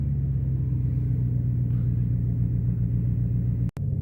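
A Ford Super Duty pickup with a 5.4 3V engine accelerates on a wet road, its wheels briefly spinning: a loud, steady, deep engine drone that holds throughout, broken by a momentary sharp drop near the end.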